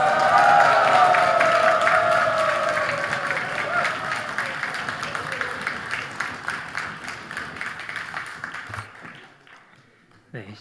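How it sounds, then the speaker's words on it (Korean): A church congregation applauds during a Sunday afternoon service as a pastor comes forward, a dense round of clapping with crowd noise that starts loud and gradually fades, mixed with a faint voice, thinning to near silence at the end. "큰 박수로 맞이하겠습니다."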